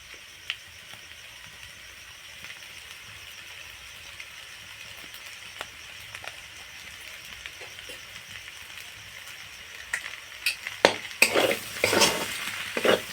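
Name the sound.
stirring pasta with tomato sauce in a pan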